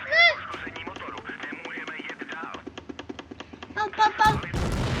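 Tank cannon shots from World of Tanks Blitz: a series of sharp, evenly spaced bursts and explosive booms, with in-game engine and effect sounds underneath and a loud blast near the end.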